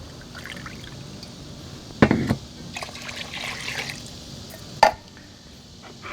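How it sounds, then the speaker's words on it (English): Chicken broth and water poured from a can into a cooking pot, giving a soft liquid trickle with two brief louder splashes, close by over low background hum. "I'm going to take one of my cans and I'm going to add water."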